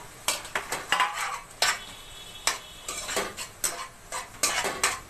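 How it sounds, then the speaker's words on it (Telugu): Onions frying in a pan for an Andhra peethalu pulusu (crab curry), stirred with a utensil that clinks and scrapes against the metal in irregular bursts over a soft sizzle, close and alone without talk. "దీన్ని బాగా బ్రౌన్ వచ్చే వరకు వేయించాలి"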